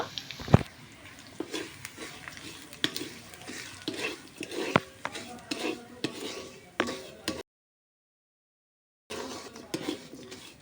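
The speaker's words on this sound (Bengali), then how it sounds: "ভেজে রাখা সুজিটা এখন এর মধ্যে ঢেলে দেব" Fried semolina tipped into a pan with fried potato and stirred, a spoon scraping and clinking against the metal in steady repeated strokes, with light sizzling underneath and a brief silent gap.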